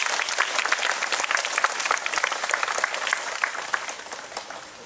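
Sustained applause from an audience at a memorial gathering in Seoul for comfort women, dense steady clapping that holds level throughout with no voices over it.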